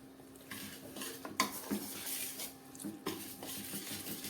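A spoon stirring milk into a sukhdi mixture in a pan, scraping and clinking against the metal in an uneven rhythm with a faint sizzle underneath, close and moderately quiet.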